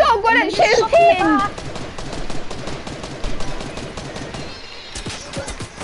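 Rapid gunfire in a shooting video game, dense bursts of close automatic shots crackling through most of the stretch, mixed with a short voice exclamation at the start.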